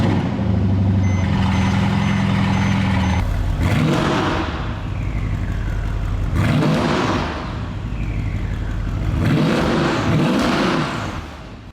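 A Mercedes-Benz AMG engine with a modified exhaust starts up and revs, the deep exhaust note swelling and falling in three loud surges close by.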